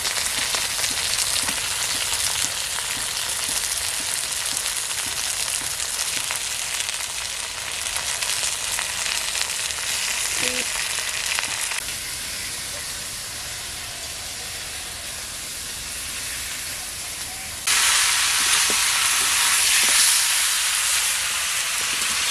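Mutton pieces sizzle in a pan of fried onions while mutton curry cooks: a loud, steady frying hiss runs through the whole stretch, briefly brightening near the end, with no voices.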